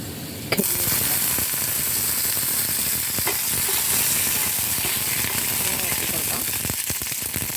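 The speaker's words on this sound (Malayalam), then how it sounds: "വെളിച്ചെണ്ണ ചൂടായതിന് കടുക് കടുക് പൊട്ടി വന്നിട്ടുണ്ട്" Mustard seeds and urad dal splutter in hot coconut oil with a loud, dense sizzle and sharp popping crackles that burst in suddenly and hold steady throughout, close up with no talk.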